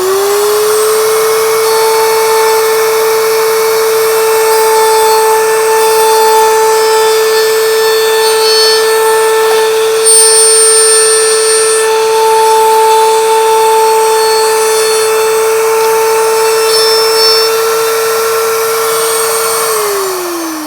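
Pin router cutting rough sawn lumber on a shop-built router table during a thin 1/16-inch cleanup pass, a loud, sustained high-pitched whine with a steady tone that drops off at the end.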